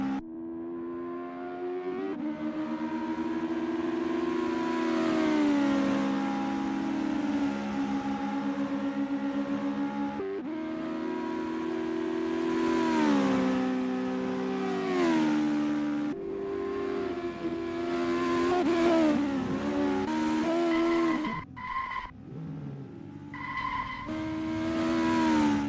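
US Legend race cars warming up at Charlotte Roval in a sim racing game: a sustained, droning engine whine that climbs and falls with gear changes, with tire squeal and shifting pitches from several cars.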